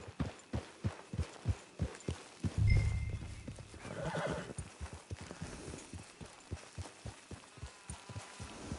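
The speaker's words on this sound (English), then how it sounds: "Get your horse." A horse in Red Dead Redemption 2 near a camp out on the range, with steady, evenly spaced hoofbeats clopping close by and a loud neigh breaking in near the start; no talking.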